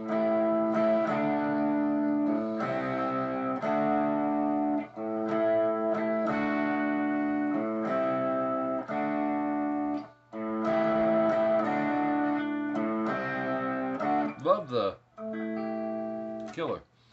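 Distorted electric guitar plays a riff, loud and steady, with repeated chords and picked note runs, a short gap midway and a bend near the end.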